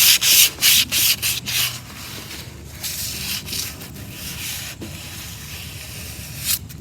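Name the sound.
sanding to distress chalk-painted wooden table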